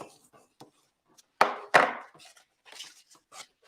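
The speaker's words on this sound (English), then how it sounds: "Fold right along the center." Paper for a small handmade book is folded and creased by hand, producing sharp close crackles and swishes, with two louder presses among softer rustles and no talking.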